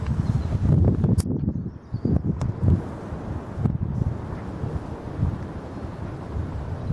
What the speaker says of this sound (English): It's still windy here. Very cold, very windy.